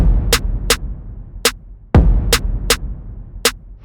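Rap-style snare pattern from a beat for a track, sharp snare cracks in a syncopated rhythm over a deep stomping kick, close and punchy, about eight hits in a few seconds.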